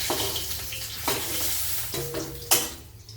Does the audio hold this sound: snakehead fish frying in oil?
yes